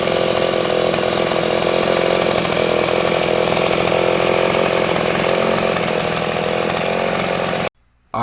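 A Powermate PWSTM4317 wheeled string trimmer's small gas engine idles with a steady buzzing drone up close, running continuously before cutting off abruptly near the end.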